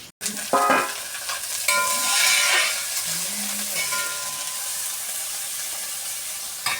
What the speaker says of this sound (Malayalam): ഇപ്പോൾ ഇത് ഉള്ളി വഴറ്റി തുടങ്ങിയിട്ടുള്ളൂ